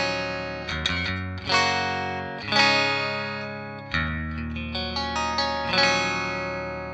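An electric guitar plays a clean tone through the Royer amp model of a NUX MG-30 multi-effects unit, with chords struck several times, each ringing out and slowly decaying before the next.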